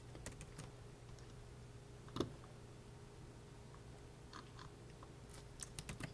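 Scattered clicks of someone typing code on a computer keyboard, quiet and sparse, with a steady low hum behind and no talk.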